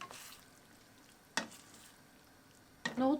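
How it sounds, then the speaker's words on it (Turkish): A chickpea stew stirred in a pot after hot water is added, a low simmering hiss broken by two short, sharp spoon scrapes against the metal, close and faint. "Şöyle bir karıştırıyorum"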